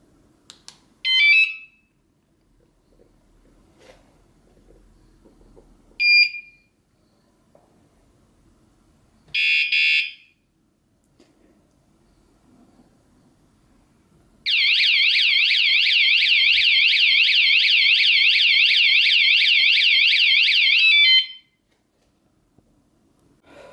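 A budget bicycle anti-theft alarm is tested: three short chirps spaced a few seconds apart, then a loud, continuous warbling siren that sweeps up and down for about seven seconds before stopping, close and alone with no talking.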